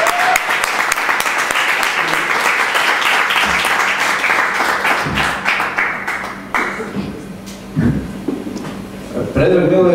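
Audience applause welcoming the first participant on stage at a live cultural show, a dense burst of clapping that fills the first half and then thins and fades while a voice starts speaking near the end.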